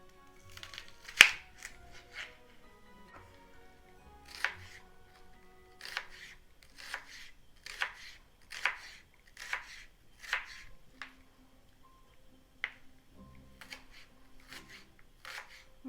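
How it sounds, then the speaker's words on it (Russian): A knife chopping onion on a cutting board while preparing a canned pink salmon soup, quiet crisp cuts in irregular bursts and short runs, close and alone. "Теперь лук нарежем."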